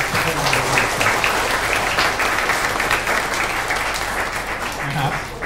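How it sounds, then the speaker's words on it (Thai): Audience applause at the close of a Thai political seminar, a steady dense wash of many hands clapping that holds loud and close for several seconds, with faint voices mixed in underneath. "อยากจะให้ทุกคนช่วยกันปรบมือให้"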